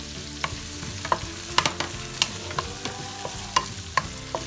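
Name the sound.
onions being sauteed and stir fried in a pan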